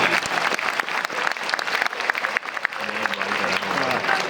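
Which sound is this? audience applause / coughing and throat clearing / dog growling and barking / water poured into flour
audience applause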